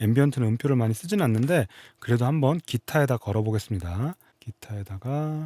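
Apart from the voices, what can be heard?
No everyday noise stands out behind the speech.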